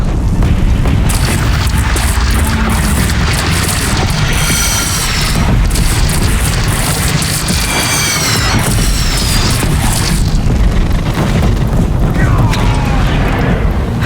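Cannon fire and explosions in the video game Horizon Zero Dawn during a defensive battle, heavy booming blasts and crashing impacts piling up continuously, loud and close, with shouting voices mixed in.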